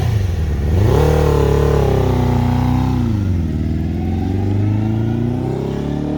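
A Suzuki GSX-R750 motorcycle on a test ride, reported a little sluggish in second gear, revs up and eases off, its engine tone rising then falling in a loud, steady drone close by.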